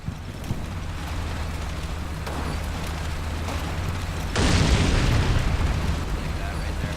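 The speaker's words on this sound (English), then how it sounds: "you may be wondering like why these are blowing up again. There's secondary explosions." In the wartime strategy game Combat Mission, burning wrecked vehicles set off secondary explosions, heard as a dull rumbling boom that swells midway and lingers over a steady low battlefield drone.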